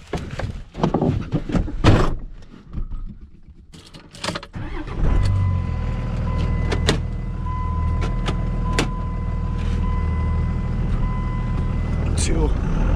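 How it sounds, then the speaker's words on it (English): A 1999 Dodge pickup turning around on a field of corn stalks, with thumps and rattles first, then a steady engine drone and road rumble from inside the cab while driving off; a voice talks over it. "So I'll spin the Dodge around here and head for home"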